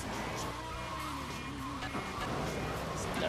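A fast taxi chase in GTA 3: a steady, full engine drone with road noise and a brief tire squeal, fairly loud and unbroken throughout, with no voices.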